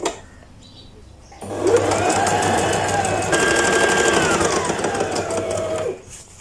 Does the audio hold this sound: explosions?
no